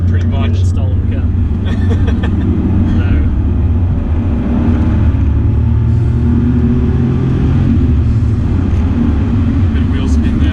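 An engine-swapped Mitsubishi KF Verada sedan with a 3.5 litre V6 accelerates hard, a loud continuous engine roar heard from inside the car, with people talking over it.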